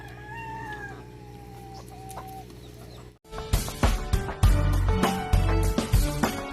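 Chickens on a farm cluck and crow while waiting for food. The birds are calm and sparse at first, then a louder, busier burst of clucking and squawking follows close by.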